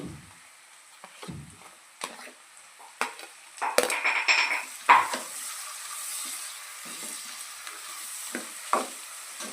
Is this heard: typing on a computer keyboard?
no